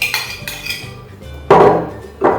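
Crushed biscuits and melted butter stirred in a bowl, with light clinks of a utensil against the dish followed by two louder scraping, clattering strokes close by, no talking.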